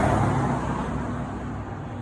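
Cars drive past on a road, a steady wash of tyre and engine noise from traffic nearby, gradually easing off, with no voices.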